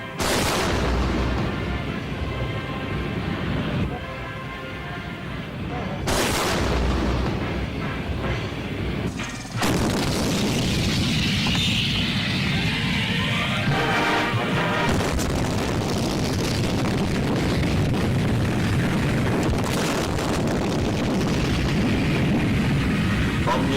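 Artillery guns firing at a target range during gunnery training, heavy booms with a long rumbling roll-off that fills most of the recording, repeated blasts at intervals under a steady narrating voice.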